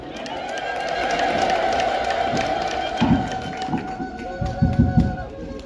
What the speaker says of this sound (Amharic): እልል ብላችሁ እግዚአብሔርን አመስግኑት